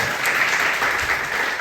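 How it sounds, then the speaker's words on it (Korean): A church congregation of youth claps together during a sermon, brisk dense clapping that is loud and close, filling the short moment without speech. "우리 박수로 들어가겠습니다"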